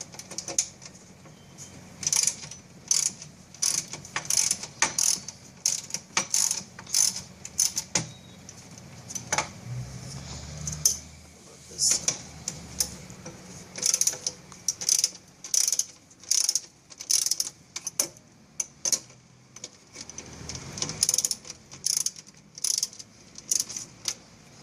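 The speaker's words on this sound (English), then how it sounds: "And now I have access to opening up the 2 bolts." Ratchet clicking in repeated bursts while loosening the two radiator fan bolts on a 2005 Hyundai Elantra, close and sharp, with short pauses between strokes and no talk.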